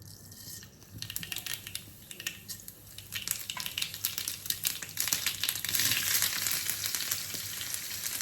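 Mustard seeds frying in hot oil for a madurakizhangu curry, a crackling sizzle that builds from sparse pops into dense continuous spattering, close and fairly loud, with no talking.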